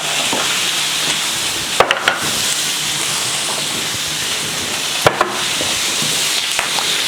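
A fried egg sizzles in a hot pan with a steady, even hiss, broken by a couple of brief clicks and pops, with no talking over it.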